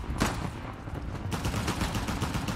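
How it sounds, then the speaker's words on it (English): Rapid gunfire in the video game Uncharted: The Lost Legacy, a steady stream of shots and bursts running throughout, fairly loud and close with no talking over it. "Who is shooting?"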